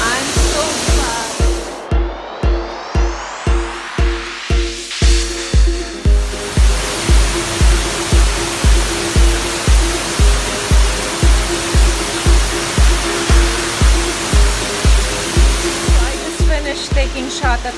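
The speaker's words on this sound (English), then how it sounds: "Waterfall. This is waterfall hunting," A waterfall in Ubud, Bali roars as a loud, steady broadband rush, overlaid by a regular low thumping pulse that may come from wind buffeting the microphone.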